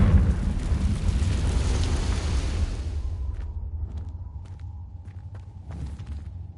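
A Confringo blasting spell in Hogwarts Legacy erupts in a loud, rumbling explosion for about three seconds, then trails off into quieter scattered game sounds and soft ticks.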